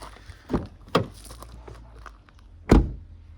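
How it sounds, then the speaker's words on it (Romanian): An Opel Astra car door with bottles in its door pocket closing, a few sharp thunks at uneven intervals, the last one the heaviest, heard close in an otherwise quiet setting. "Așa se aude ușa când are sticle în ea"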